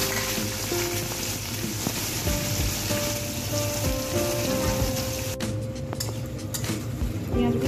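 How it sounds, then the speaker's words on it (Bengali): Onions frying in oil with tempering spices, a continuous crackling sizzle close by, with a faint tonal hum and a few soft clatters near the end. "পেঁয়াজগুলো দিয়ে দিয়েছি, একটু ভাজা ভাজা হোক"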